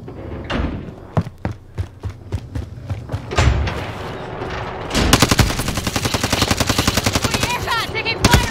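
Video game gunfire crackles in a string of sharp single shots, then breaks into a fast, sustained automatic burst, loud and close with no talking.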